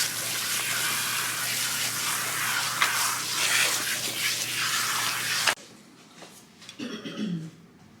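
Water runs steadily from a tap while hair is scrubbed with cream cleanser, a loud broadband hiss that cuts off abruptly partway through, leaving faint handling sounds.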